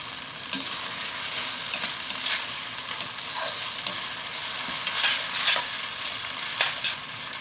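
Onion and capsicum stir-fry in a hot pan for chicken Manchurian, a steady close sizzle broken by repeated scraping stirs of a spatula, with no talking.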